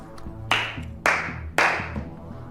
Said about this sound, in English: Willa turns off the TV and begins sarcastically clapping